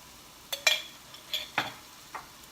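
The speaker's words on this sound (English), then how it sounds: "And I'm just going to work that into this sauce." Dijon mustard being stirred into a steak Diane sauce in a pan: a quiet simmer underneath, with several distinct spoon scrapes and clinks at irregular intervals.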